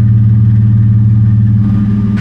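Nissan GU Patrol with a TB48 six-cylinder engine and aftermarket exhaust idling, a loud, steady deep burble with an even low drone, heard close and alone.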